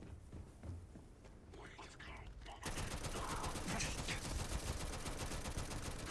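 A particle-round AK000 rifle mod in Starfield fires sustained rapid automatic bursts, loud and dense, after a few quieter seconds of faint game ambience.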